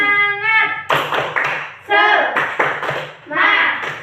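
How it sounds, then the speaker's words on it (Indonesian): Children in a combined class 3 and 4 classroom do a rhythmic spirit clap: several bursts of loud group clapping alternate with a teacher's chanting voice and children's voices. "Tepuk semangat."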